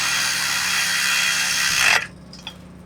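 An impact wrench rattles loudly in one sustained burst while tightening a pivot bolt on a Case IH SDX planter, then stops abruptly, followed by a faint metallic tap.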